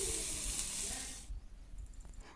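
Marinated tofu sizzles on an oiled dosa tawa, a steady bright hiss for about a second before cutting off abruptly into near silence.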